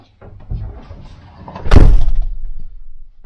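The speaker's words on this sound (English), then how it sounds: "and then the other door closes tight enough that the seal comes together." The second door of a van being pushed closed so its seal meets, with light handling knocks leading into one loud, close slam that lingers briefly with rattle.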